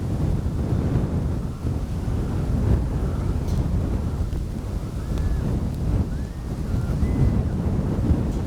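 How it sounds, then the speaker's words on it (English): Strong wind buffets the microphone at an RC jet flying field on a grassy strip. The roar is dense and constant, with low rumbling gusts, and a faint model jet whine is heard briefly underneath. "It is windy."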